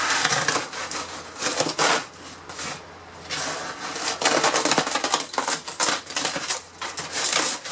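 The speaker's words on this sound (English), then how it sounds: "Easier if I tear it from the bottom up." Cracking, crunching rips of interior wall panels being torn out of a 1974 Silver Streak travel trailer, loud close bursts of splintering and scraping in quick irregular succession throughout.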